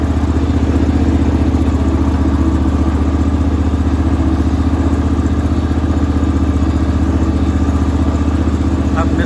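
A homemade mud mower's engine runs steadily as the machine is driven, a continuous loud mid-pitched drone with a rhythmic clattering throb that holds unchanged throughout.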